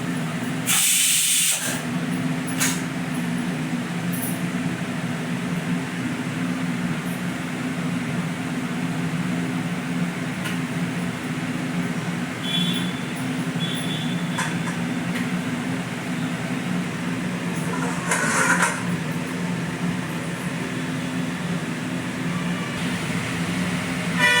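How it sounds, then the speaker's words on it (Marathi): Cooking liquid for Khandeshi patodi bhaji boils in a pot: a steady, continuous bubbling hiss that lasts the whole stretch, with a brief clatter near the start. "आपली ना उकळी आलेली एकदम छान अशी मस्त उकळी आलेली आहे"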